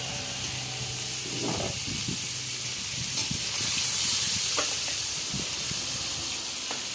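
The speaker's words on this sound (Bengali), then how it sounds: "হালকা করে চিংড়ি মাছটা ভেজে নিচ্ছি" Steady sizzle and hiss of prawns frying in oil, with occasional light knocks and scrapes of stirring, swelling briefly louder midway.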